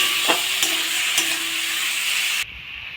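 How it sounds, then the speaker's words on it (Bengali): Potatoes stir-fried in spiced oil give off a loud, dense sizzle close up, a couple of stirring scrapes breaking through before the hiss drops off abruptly near the end, no talk. "এবার আমি আলুগুলো দিয়ে দেবো, ভালো করে কষে নেবো।"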